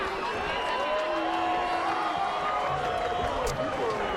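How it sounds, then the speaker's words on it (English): A crowd at the Arizona Bowl college football ceremony applauds and cheers, a dense, continuous wash of clapping lasting a few seconds with faint voices mixed in. "Let's give them both a round of applause."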